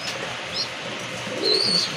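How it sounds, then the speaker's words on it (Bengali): Large fancy pigeons coo in a soft, steady stream, with a few higher bird calls rising near the end; the birds sound close and fairly loud, with no voices over them. "অনেক মোটা সাইজের কবুতর, বড় সাইজের কবুতর"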